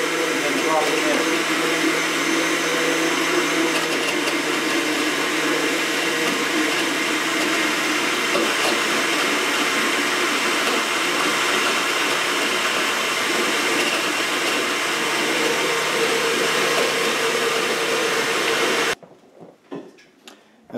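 Blender motor running steadily and loud while blending garlic cloves with water for a homemade deer repellent, a continuous whirring drone lasting most of the stretch before cutting off abruptly near the end.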